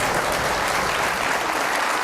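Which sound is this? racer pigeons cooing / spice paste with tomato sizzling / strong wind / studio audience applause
studio audience applause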